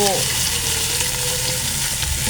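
Ginger and garlic frying in a pan for sinigang, a loud, steady close sizzle with a short stirring scrape at the start, and no talk.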